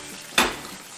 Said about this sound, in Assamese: ভালদৰে অকণমান সময় লৰাই দিলো